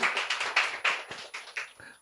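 Applause from an event audience, a burst of sharp, fairly close claps in quick irregular rhythm that thins out toward the end.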